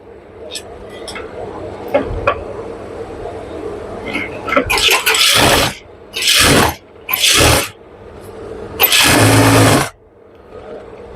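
A sewing machine stitches a pajama seam in several short runs of fast, steady whirring. Bursts of different lengths are separated by pauses with faint handling noise and soft background sounds.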